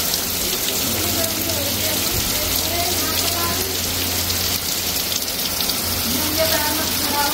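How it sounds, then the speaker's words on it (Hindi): Heavy downpour in Dehradun, a loud, constant hiss of rain striking nearby surfaces with scattered heavier drips and a faint low drone underneath. "बहुत अच्छी बारिश हो रही है बाहर, बहुत तेज बारिश स्टार्ट हो गई है"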